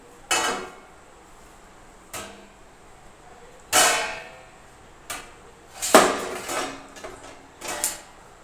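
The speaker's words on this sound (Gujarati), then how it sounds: "હવે આપણે તેને એક ડીશ પ્લેટમાં પલટી લેશું" Dhokla is flipped out of its pan onto a dish plate, heard as a string of sharp metallic clanks and knocks of pan against plate, spaced irregularly over several seconds, close and fairly loud with quiet gaps between.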